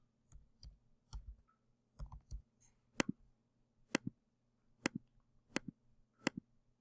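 Someone types on a computer keyboard in a quiet room, producing sparse, separate key clicks in an irregular rhythm that grow slightly sharper toward the end.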